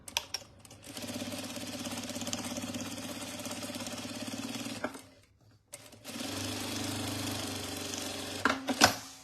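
A sewing machine stitches the lining of a crossbody bag, running in a steady, rapid mechanical whir for several seconds, pausing briefly, then starting again for another run, with a click at the end.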